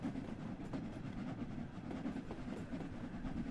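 A steam locomotive on a West Coast local line rumbles along steadily, with a dense, close-up mechanical roar and faint rhythmic clatter, no voices.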